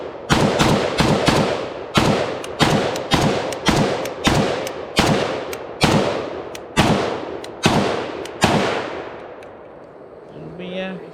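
A Zastava PAP M90-PS AK rifle in 5.56 NATO fired on an outdoor range, about twenty loud, sharp shots in an uneven semi-automatic rhythm, each cracking close by before the string stops and quiet follows.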